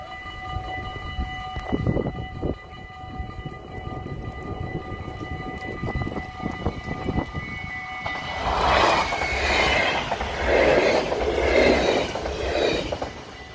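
A freight train rolls past a Dutch trackside spot, its rumble and wheel noise swelling loud and close partway through after a quieter approach with faint rail sounds.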